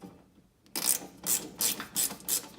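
Ratchet wrench clicking in five quick bursts as long bolts are tightened on a Springtail folding table MOLLE panel mounted to a Jeep Wrangler JL rear door, close and loud after a brief quiet start.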